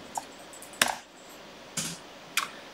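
A few sparse, quiet keystrokes on a computer keyboard during accounting software data entry, spaced irregularly with no talk.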